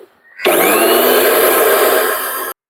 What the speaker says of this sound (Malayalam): 3/4 കപ്പ് പഞ്ചസാരപ്പൊടി എടുത്തിട്ടുണ്ട്. ഈ മിക്സിക്കകത്തിട്ട് അടിച്ചെടുക്കാം.